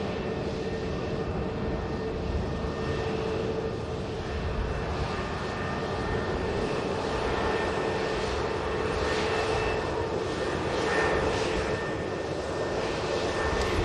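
An Aer Lingus Airbus A320 jet at Manchester Airport gives off a steady, broad engine roar, loud and sustained with a slight swell toward the end, no voices.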